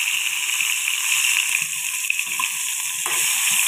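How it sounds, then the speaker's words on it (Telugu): Fish frying in well-heated oil in a pan, a steady loud crackling sizzle throughout with no talking. "ఆయిల్ బాగా వేడెక్కింది, చేపలు వేసుకుంటున్నాను."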